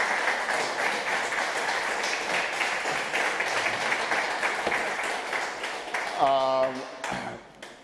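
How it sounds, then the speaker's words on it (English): A round of clapping from attendees at the 2021 USVI Tech Summit, sustained and moderately close, with a voice speaking over it and a brief ringing tonal ping just before the clapping thins out. "And let's give them a round of applause."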